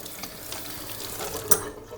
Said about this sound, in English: carefully rinse the photo under cool running water